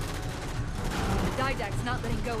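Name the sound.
gun emplacement firing in the video game Halo 4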